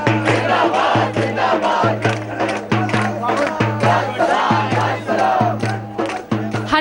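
Large crowd of students on a university campus at night shouting slogans in rhythmic unison, with drums beating steadily beneath the loud, dense chanting throughout.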